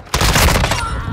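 Loud, close bursts of rapid gunfire ring out in a Call of Duty: Modern Warfare II match, a dense volley with no talking.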